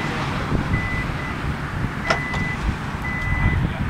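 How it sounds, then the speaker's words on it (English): Hyundai Elantra (2017) Smart Trunk opening on its own after the locked car detects the proximity key, with a few short electronic beeps over steady outdoor background noise. "So I'm testing the new Hyundai Elantra's Smart Trunk feature."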